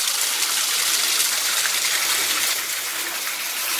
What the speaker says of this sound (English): Found my waterfall.